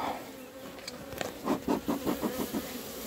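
Honeybees swarm around an opened hive colony that has stopped laying, a steady close buzzing broken midway by rhythmic pulsing bursts of louder buzz, with a few light taps and bumps from the beekeeper's work.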